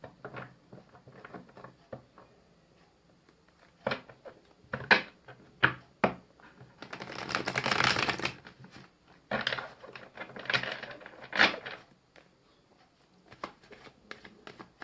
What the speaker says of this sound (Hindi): यहाँ से मैं 3 कार्ड्स निकालूंगी